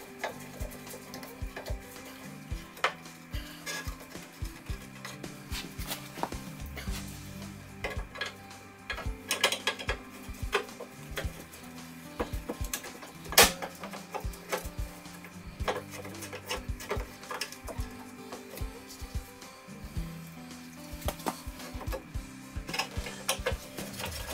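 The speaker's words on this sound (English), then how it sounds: "So now take these screws out." A screwdriver works the four screws from a sealed-beam headlight bucket on a car during a projector LED swap, giving soft scattered ticks, light metallic clicks and small scrapes at close range, spread unevenly over about twenty seconds.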